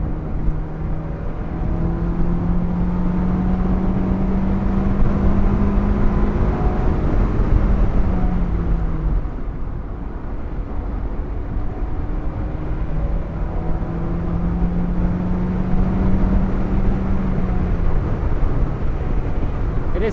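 A Honda S2000 AP2 engine pulls hard along back roads, a loud, steady close-up drone whose pitch climbs and falls with each rev change, with no voices over it.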